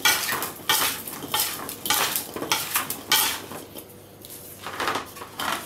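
Potatoes being tossed with olive oil in a baking dish, a utensil scraping and clinking against the dish in repeated bursts of clatter, close and moderately loud, with no talking.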